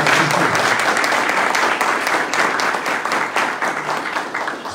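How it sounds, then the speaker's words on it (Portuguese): Dense, steady applause from a seminar audience honouring regional civil-defence coordinators, many hands clapping together at even loudness throughout with no voices over it. "gostaria que dedicássemos uma salva de palmas do trabalho que esses coordenadores regionais"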